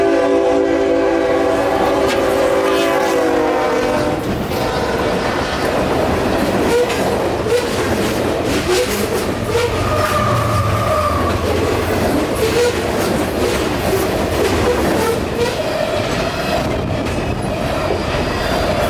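A short coal train, about 2,200 feet long, passes close by with a loud continuous rumble and clickety-clack of wheels, a horn sounding at the start and some wheel squeal throughout.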